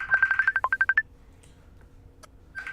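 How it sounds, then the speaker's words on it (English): A messenger app's incoming call rings during a live evening stream, a quick run of about ten even electronic pulses near and fairly loud, then fading to a quiet room before a brief tone returns at the end. "that ringing you hear in the background is someone trying to contact me on the messenger"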